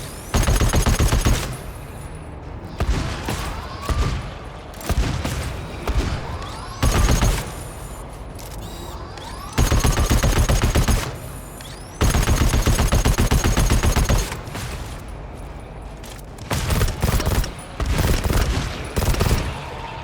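Gunfire from a sentry turret in the video game GTFO, loud rapid bursts of automatic shots that start and stop repeatedly, separated by short quieter gaps.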